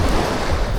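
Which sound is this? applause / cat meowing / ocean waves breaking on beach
ocean waves breaking on beach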